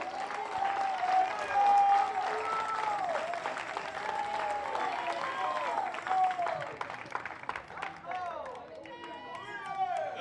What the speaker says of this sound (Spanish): ¿Podemos dar palmas de alabanza al Señor?